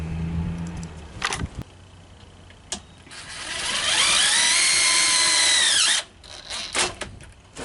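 Power drill driving screws to fix a latch plate for a Schlage Century keypad lock on an exterior gate: short whirring bursts, then a sustained high-pitched drive that winds down and stops, close by.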